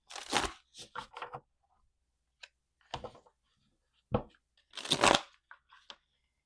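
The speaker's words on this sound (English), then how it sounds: "One more shuffle" A deck of tarot cards shuffled by hand in several short, crisp bursts of flicking and riffling, separated by brief quiet pauses and heard up close.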